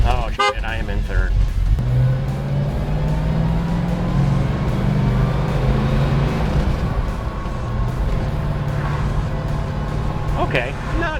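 A 1970 Ford Mustang Mach 1 engine accelerating in third gear with a deep, rising rumble, heard from inside the car with people talking over it.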